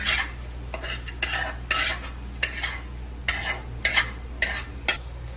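Light roasting of ingredients in a pan with a little oil, marked by a regular series of nearby stirring scrapes, roughly one every half second, crisp and fairly loud above a steady low hum; nobody speaks.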